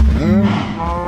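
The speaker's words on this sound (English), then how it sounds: "Why are there so many cows crammed into the corner?" Minecraft cows crammed into a corner let out a single loud, close moo, a deep drawn-out bovine call heard alone.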